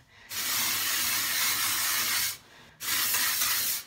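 Two hissing bursts of an aerosol dry shampoo spray, one long and one shorter, close up with a brief pause between them.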